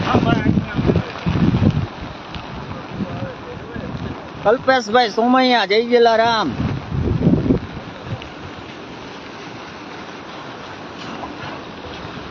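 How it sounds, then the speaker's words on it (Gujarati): Floodwater of the Bhadar river rushes past in a steady, broad roar after the dam gates are opened, heard outdoors under someone speaking and a brief burst of music. "આજે ડેમના પાટિયા ખોલ્યા છે તો ઘણું બધું પાણીની આવક થઈ છે"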